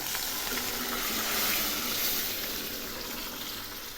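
Dal lentils tipped into a pan of frying cumin and ginger paste give a steady, moderate sizzle with a faint hiss, close by and continuous without talk.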